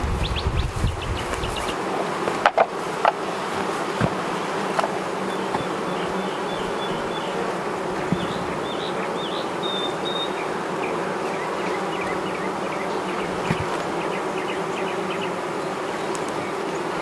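Honey bees buzz around an open hive with a honey-filled box, a dense, continuous drone close by that holds steady throughout, with no one speaking.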